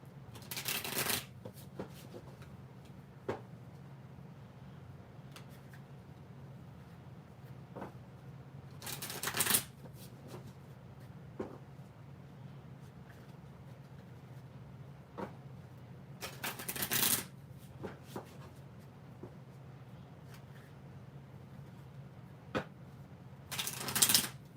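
A deck of tarot cards is shuffled in repeated rustling, flicking riffles over a faint steady background hum, with louder bursts every few seconds.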